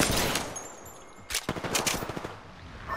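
Rapid automatic gunfire in the battle-royale shooter Apex Legends, loud close bursts of shots in quick rhythmic succession, with a sharp onset after a brief lull.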